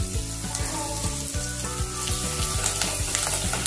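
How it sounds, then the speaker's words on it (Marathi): Salt and chopped coriander sauté in hot oil for a sprouted moth bean curry: loud, close sizzling with rhythmic scraping and clinking from a stirring utensil against the pan, and no talking. "चांगलं परतून घ्यायचं"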